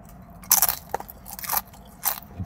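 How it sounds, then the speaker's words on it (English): Several crisp, loud crunches of someone biting into crunchy tortilla chips, spaced irregularly with short pauses between bites. "These chips, they're so crunchy."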